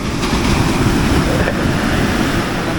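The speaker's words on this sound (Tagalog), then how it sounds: "Talagang may kaalunan." Ocean waves at the seashore roll in as a heavy, continuous roar of surf mixed with wind buffeting the microphone, loud and close with no voices.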